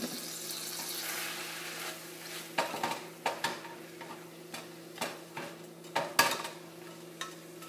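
Vegetables dressed in oil and vinegar cook in a pan, with a soft sizzle under repeated clinks and scrapes of a utensil stirring against the pan, close and fairly quiet, with no one talking.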